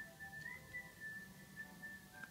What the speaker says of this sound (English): that's my ringtone. It's Kill Bill.